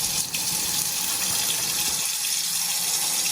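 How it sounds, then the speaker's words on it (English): Tap water runs steadily from a faucet into a sink during soapy handwashing, a continuous close, loud gush with no talking. "Now I have to wash my hands with soap for 20 seconds."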